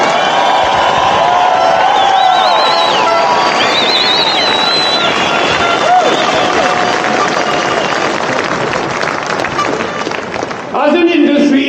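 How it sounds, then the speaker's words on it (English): Protesting farmers at an outdoor rally break into loud, sustained clapping and cheering, with whistles and shouts rising over the crowd for about ten seconds before the noise thins out. "Give yourselves all a big clap on that."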